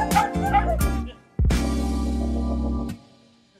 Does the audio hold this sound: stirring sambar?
no